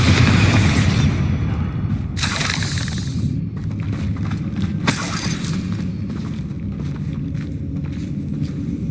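Bombarda spell blasts in the video game Hogwarts Legacy, a loud booming rumble with sharp shattering bursts around two and five seconds over dense low-end roar.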